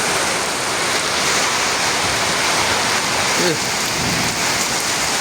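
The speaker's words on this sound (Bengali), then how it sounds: "বৃষ্টি হচ্ছে," A Kalbaishakhi nor'wester storm brings heavy rain and strong wind, pouring in a loud, continuous wash of rain on surfaces with gusty noise, and a brief faint voice partway through.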